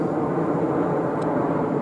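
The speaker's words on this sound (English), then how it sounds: "And you can see a plane" An airplane passes overhead at night near the railway at Imperial Wharf, heard as a steady, even roar that holds at the same loudness throughout, with no voices.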